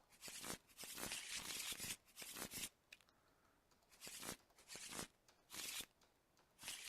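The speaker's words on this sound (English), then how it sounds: "While we're at it, we'll go ahead and shuffle these." A deck of board game cards is riffled and shuffled at a table in several crisp, close bursts of fluttering card noise, separated by short quiet gaps.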